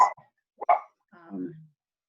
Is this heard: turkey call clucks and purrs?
no